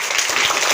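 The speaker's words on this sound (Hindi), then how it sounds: "बड़ा जोरदार ताली से" A crowd applauds at a fire safety awareness event, a dense, steady wash of clapping throughout a brief moment with no pauses.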